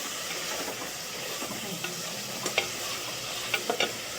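Vegetables for veg biryani sautéing in a pan, with a continuous close sizzle and hiss, a few sharp spoon scrapes and clinks near the end, and no voices.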